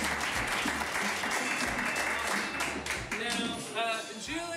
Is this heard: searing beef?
no